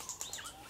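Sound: bird call

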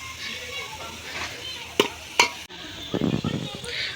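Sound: onion frying for village chicken on a wood-fired stove

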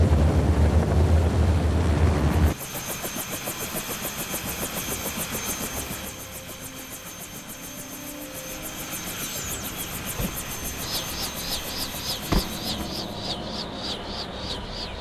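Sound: vehicle engine running in the Jurassic Park video game

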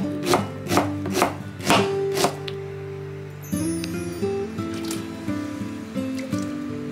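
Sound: thinly slicing onion with a knife

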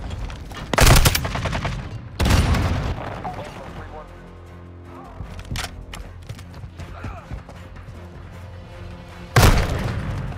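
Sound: grenade thrown and exploding in Modern Warfare II video game

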